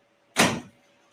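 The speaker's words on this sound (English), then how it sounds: "Sorry, my dog shut my door." A door swung shut by a dog, a single loud thud with a short dull rumble fading quickly in a quiet room.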